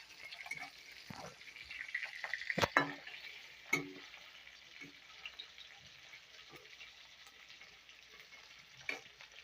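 Fish frying in a pan at home, a faint steady sizzle broken by a few sharp clatters and scrapes of a utensil, with quiet stretches between them.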